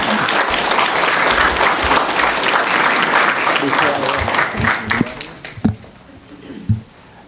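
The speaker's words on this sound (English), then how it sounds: "So that man deserves a round of applause." A school board work session audience breaks into sustained applause, a thick wash of clapping that tapers into a few scattered claps and murmurs.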